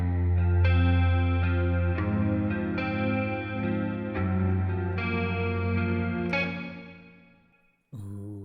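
Electric guitar run through amp simulators and effects processing plays sustained, shimmering chords with swelling echo and chorus, each new strum blooming over the last, then a brief drop to silence before one more chord lands.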